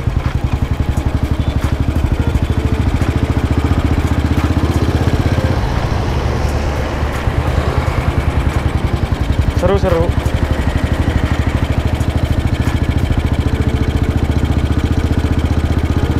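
A 1952 BMW R25 motorcycle engine thrums steadily while riding, a loud continuous single-cylinder drone close by with brief shifts in pitch and a voice speaking over it.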